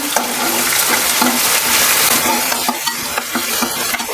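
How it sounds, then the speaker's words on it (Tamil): Greens sautéing in hot oil in a pan, a steady, loud close sizzle with faint stirring scrapes throughout and no talking. "கீரை சேர்க்கும்போது அந்த எண்ணெயில் நல்லா கொஞ்சம் நேரம் வதங்கட்டும்"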